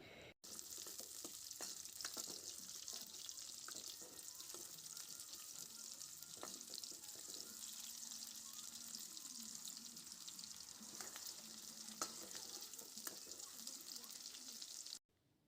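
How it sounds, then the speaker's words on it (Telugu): Sliced onions frying in oil in a kadai, a continuous soft sizzle with scattered clicks and ladle scrapes as they are stirred, fairly faint and steady. "ఆయిల్ హీట్ అయిన తర్వాత నిలువుగా కట్ చేసుకున్న ఉల్లిపాయ ముక్కలను వేసి వేయించుకోవాలి"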